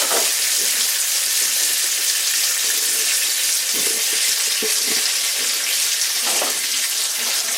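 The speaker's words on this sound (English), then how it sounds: "Frying my bacon." Bacon frying in a pan in a home kitchen, giving a loud, continuous hiss and crackle that holds steady, with a few faint pops and clinks underneath.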